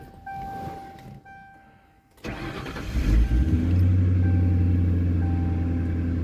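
An old truck with a 4.6 engine turns over and catches, then settles into a steady, loud, close idle rumble that carries to the end after a brief quieter stretch with a faint tone.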